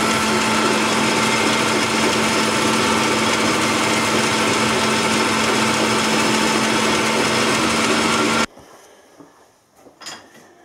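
Lathe screw-cutting a metal workpiece, a loud steady mechanical whir with a constant hum that runs unbroken for about eight seconds, then stops abruptly, leaving faint knocks and handling noises.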